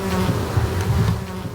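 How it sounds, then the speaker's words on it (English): Swarming flies buzz steadily and close by near a wrecked bridge and bus in a Donbas war zone in Ukraine, a continuous droning hum with no voices. "The buzz of swarming flies is the only sound bar the terrifying explosions of battle."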